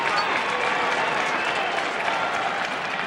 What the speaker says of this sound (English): Crowd appreciating the defense of Syracuse there.